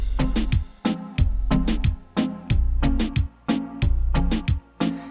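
Reggaeton beat made in Studio One with drums and instruments: punchy kick and snare in a steady dembow-style groove over sustained synth and bass tones, looping evenly without vocals.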